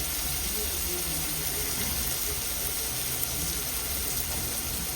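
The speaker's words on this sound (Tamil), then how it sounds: "ஒரு கைப்பிடி அளவு ஆனியன், இதுவும் நல்லா ப்ரௌன் ஆகிற வரைக்கும் வதக்கணும்." A handful of sliced onions sautéing in a pan for a home-style fish curry, giving a steady close sizzle and hiss without a break, under quiet room noise.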